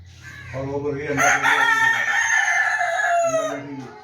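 A backyard rooster lets out one long, loud, drawn-out crow close by, with low hen clucking before and after it.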